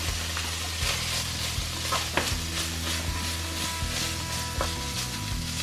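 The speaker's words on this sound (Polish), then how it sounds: "I zostawię wszystko na 4 minuty. Niech się ładnie razem smaży." White onion sizzles steadily in a hot pot for Korean pork sundubu jjigae, a constant crackling hiss with occasional scrapes of a spoon stirring.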